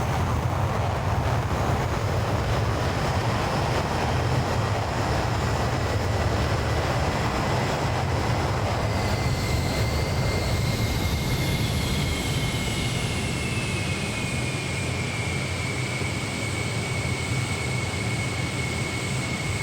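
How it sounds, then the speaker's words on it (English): DC Design Concorde jet engines in Flight Simulator 2020, a loud continuous roar heard from outside the aircraft, with a high whine that sweeps downward and settles into a steady tone partway through. "Let's listen to how the engine"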